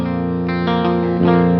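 Sustained electric guitar chord on a Jazz 120 clean preset of a Mooer GE200 Plus multi-effects unit, ringing with a light chorus and reverb shimmer and a few restrikes, loud and close with no talking.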